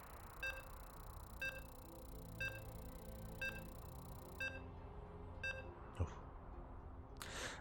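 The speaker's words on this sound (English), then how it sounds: "As we're loading on in, you can hear the beeps." A StarCraft match loads to a series of evenly spaced electronic beeps, six short tones about a second apart, followed by a brief thump and a bright tonal burst.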